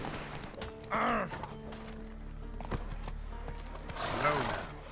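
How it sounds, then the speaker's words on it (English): Horse sounds in The Witcher 3 game, with a couple of short bursts of hoof clatter and a snort-like call rising over quiet ambient game noise and faint mechanical clanks, spaced a few seconds apart. "There's horses"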